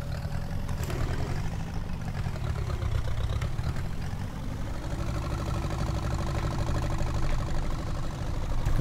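In a farming survival video game, a tractor without a roll bar idles with a steady, low engine rumble that runs throughout, a few faint clicks and knocks sitting on top of it.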